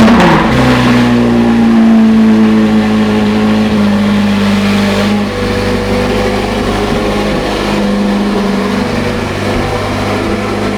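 A C8 Corvette Z06 engine roars under load on a dyno during a baseline run, very loud and sustained, its pitch climbing steadily through the pull with a harsh, high-revving tone.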